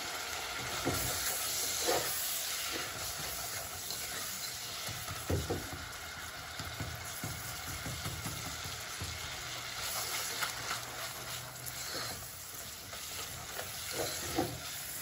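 Minced meat frying with spices in a pan, a soft continuous sizzle with occasional stirring scrapes and clinks, fairly quiet and without talk.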